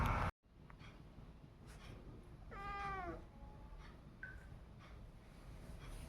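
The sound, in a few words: cat meowing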